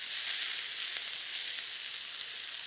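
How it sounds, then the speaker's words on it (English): Sliced green onions, white bulbs and tops, sizzle steadily in a hot pan, a close, even hiss of frying with no talk. "We're gonna let this cook a few minutes just to get that onion tender."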